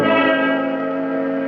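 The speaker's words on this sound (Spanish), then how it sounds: "don Miguel Hidalgo y Costilla, hace vibrar el bronce de la histórica campana que llama al pueblo mexicano a la lucha por la libertad." A large historic bronze church bell rings once, a loud bright strike followed by a long resonant hum that slowly fades, heard alone without voices.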